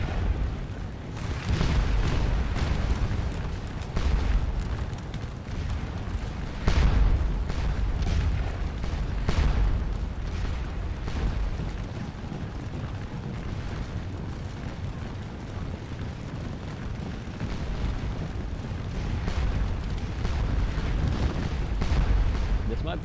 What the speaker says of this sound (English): I need them in the far west to counter this artillery that's destroying my square.